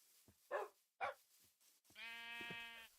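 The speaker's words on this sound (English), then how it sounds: "Sheep." Sheep in a video game bleating: two short noisy bursts followed by a longer, clearly voiced, wavering bleat, heard close and fairly loud against quiet background.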